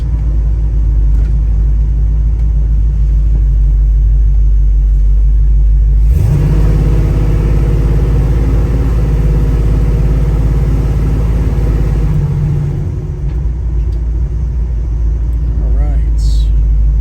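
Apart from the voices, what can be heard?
1972 Chevrolet Nova 427 engine rumbling while driving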